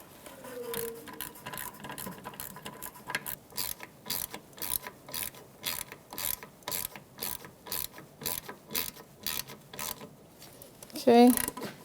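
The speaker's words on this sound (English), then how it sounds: "Now with the 10mm socket, I'm going to tighten up this nut." A hand ratchet with a 10mm socket tightens a nut on the rear ABS wheel speed sensor mount of a 2013-2018 Toyota RAV4, a rapid run of close, sharp clicks with a brief voice sound near the end.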